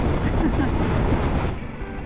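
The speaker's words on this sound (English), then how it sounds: "Getting blasted with wind." Strong wind roars over the rider and microphone on a cross-country Triumph Tiger 900 GT motorcycle ride, a loud dense rushing blast that eases slightly near the end.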